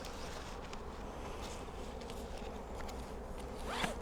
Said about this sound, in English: you can hear the bees humming